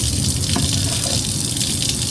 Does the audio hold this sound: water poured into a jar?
yes